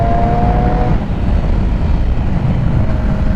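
Sport motorcycle, a 2006 Triumph Daytona 675 or 2007 Yamaha YZF R6, accelerating under throttle, a loud, close, continuous engine drone with wind roar, heard alone.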